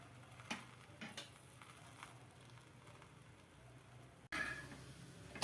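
A cauliflower paratha fries on a pan with oil added at the side, giving a faint, steady sizzle with light crackles that grows louder and sharper near the end.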